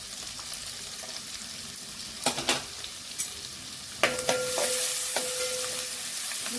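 Finely chopped onion sautéing in a pan for chicken fried rice, a soft sizzle with a few sharp stirring clatters and scrapes against the pan, heard close with no voices.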